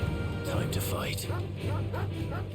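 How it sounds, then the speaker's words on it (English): Dogs bark and yelp in the video game Final Fantasy XVI, mixed into dense game sound while someone talks over them. "do feel sorry for the dogs when they yell though"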